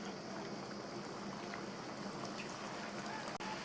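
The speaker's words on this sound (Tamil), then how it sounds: "நம்ம ரெடி பண்ணி வச்ச ஒவ்வொன்றையும் எண்ணெயில் சேர்த்துடலாம்." Kuzhalappam pieces sizzle and bubble steadily in hot oil, a dense, continuous crackling fry close up with no pauses and no talk.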